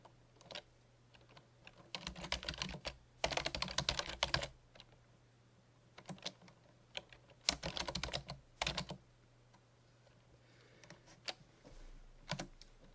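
Typing on a computer keyboard while entering text in a LibreOffice document: rapid bursts of close, crisp keystrokes separated by short pauses, with sparser taps toward the end over a faint low hum.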